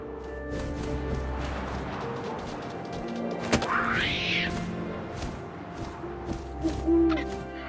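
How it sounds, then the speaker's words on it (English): An owl hoots in the video game What Remains of Edith Finch, a single call rising over a low ambient wind bed, with a few soft thuds nearby. "And suddenly, I was an owl."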